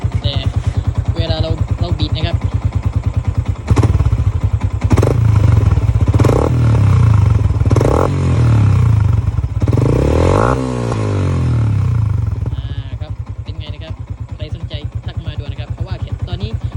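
A Yamaha Exciter 150 motorcycle idling with a throaty, rumbling exhaust through an aftermarket NLK 32mm pipe, briefly revved higher a few times before settling back, heard close up.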